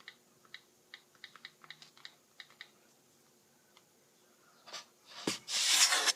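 A password is tapped in on a first-generation iPad mini as a quick string of light, crisp clicks, followed by louder rustling and handling noise near the end.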